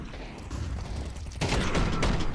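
Rifle gunfire during a professional Counter-Strike match at IEM Katowice 2025, a dense rattle of rapid shots that swells louder halfway through, mixed into steady game ambience with no voices.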